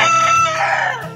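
A Brahma rooster crows once, a loud, close, drawn-out call that holds steady and then trails off in about a second.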